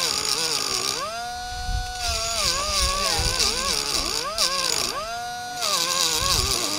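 Motorcycle engine being tried, revving repeatedly with rising and falling pitch in loud, close bursts, with short dips back to idle between revs.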